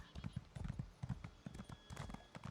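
Horse hooves clip-clop in a steady rhythm in the Elder Scrolls Online video game, close and fairly loud, with a voice talking over them throughout.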